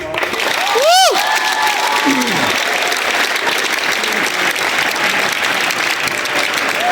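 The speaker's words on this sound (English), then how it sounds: "let's give her a round of applause." A high school signing-day audience bursts into loud, dense applause that carries on steadily, with a voice whooping and cheering early on and a few scattered shouts mixed into the clapping.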